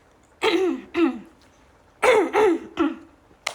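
A person clears their throat in a series of rough, guttural bursts, close up, with short pauses between them.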